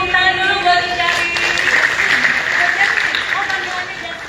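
An audience applauds for Isyari at a live event, steady dense clapping that stays loud and even throughout, with a few faint voices mixed in.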